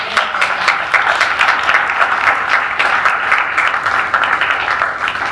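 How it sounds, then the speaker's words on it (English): An audience at a workplace cannabis panel discussion breaks into steady, dense applause for the panelists, many hands clapping close and loud throughout with no break. "Can we give the panelists a round of applause?"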